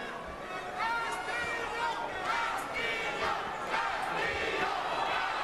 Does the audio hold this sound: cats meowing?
no